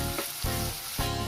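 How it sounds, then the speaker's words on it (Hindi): Onions frying in oil until reddened, a close, even sizzle overlaid with a rhythmic pulsing hum, brief and without voices. "प्याज टी आमे एबे भल भाव लाल होला पर्यंत भाजी।"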